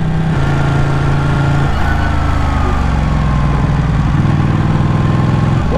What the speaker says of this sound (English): This bike roars, that's for sure.